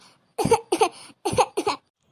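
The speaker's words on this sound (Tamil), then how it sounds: "ஏட்டி பேச முடியல இருமலா வருது" Four harsh coughs come close to the mic in two quick pairs, with short pauses between them.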